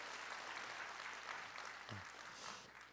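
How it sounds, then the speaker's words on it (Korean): A congregation at a New Year's Eve church service applauds the combined third and fourth service church choir, a steady wash of clapping that holds at even strength, fairly quiet and distant, without any voices over it. "한번 힘찬 격려 박수 부탁합니다"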